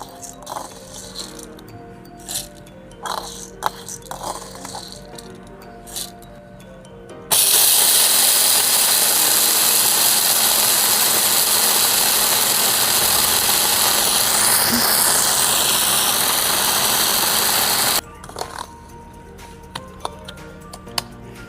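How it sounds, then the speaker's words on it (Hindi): An electric grinder grinds cooled chana dal lentils. It bursts into a loud, harsh whirring roar that holds for about ten seconds and then cuts off abruptly, with light clinks and handling noises before and after. "अब इसमें डाल के हम इसको ग्राइंड करेंगे"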